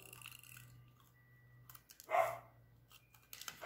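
Dogs barking indoors at a distance, one clear bark in the middle amid quiet tapping and light handling sounds from a card-making craft session.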